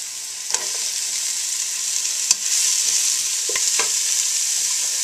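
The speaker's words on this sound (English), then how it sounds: "Now a pan is hot, then I use 1 tablespoon of oil, garlic, onions and celery," Garlic, onions and celery fry in a tablespoon of oil in a hot pan, a steady bright hiss with a few sharp spatters and light clicks of a utensil, no speech.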